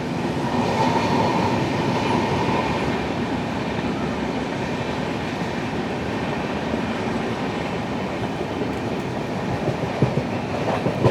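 Netravati Express passenger train rolling through Kerala near Kadalundi, a steady loud rumble of wheels and carriages with faint clickety-clack throughout, heard continuously from on board.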